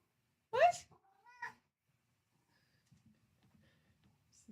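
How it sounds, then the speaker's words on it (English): A loud, sharp cat meow sounds once up close, followed by a shorter, softer second call, then near quiet with faint rustling. "This is a loud kitty."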